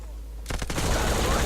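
Gunfire in an Xbox shooter game during a border-crossing mission: a quick burst of shots lands a headshot, followed by sustained loud in-game gunfire and ambient noise.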